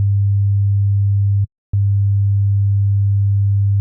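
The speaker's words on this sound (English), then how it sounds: "Here I have just a simple sine wave playing an operator at 100 Hertz." A pure 100 Hz sine tone from Ableton Live's Operator synth, a steady low hum that stops briefly for a fraction of a second and then resumes at the same level, alone with no voices.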